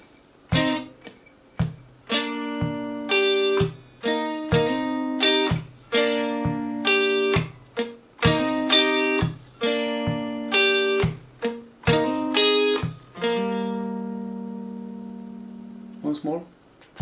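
Rhythmic guitar chops played as short choppy chord bursts in repeating groups with gaps, closing on a longer sustained chord that rings out.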